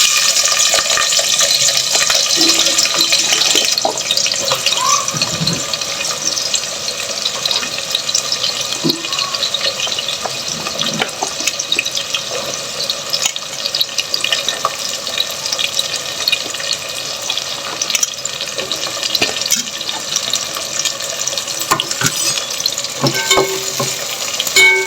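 Onions fry in hot oil in a pan for a mutton boti curry, with a loud, continuous sizzle and occasional stirring scrapes, close up, with no talk.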